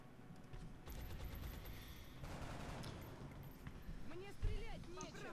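Bursts of gunfire from the turn-based video game XCOM: Long War, a busy rattle of shots running under steady talk, with a sharper burst near the end.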